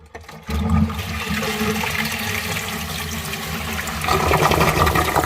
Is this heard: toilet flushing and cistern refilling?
yes